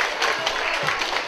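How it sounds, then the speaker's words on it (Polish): A brief burst of steady audience applause at a community presentation event, thanking the presenters, with a crowd murmur under it. "Proszę Państwa i brawa dla wszystkich"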